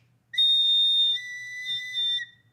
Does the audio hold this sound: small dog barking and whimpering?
no